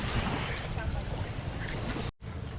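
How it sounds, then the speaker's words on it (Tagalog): Sea waves crash against a seawall on the coast at Calatagan, Batangas, making a steady, loud, close roar of surf and wind that dips briefly near the end. "Sa sobrang lakas ng ampas ng alon dito, yung seawall durog, lagas."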